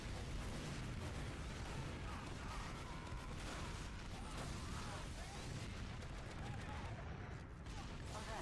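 Dense, continuous barrage of game explosions and gunfire from a Dota-style match, loud and unbroken throughout with no quiet gaps.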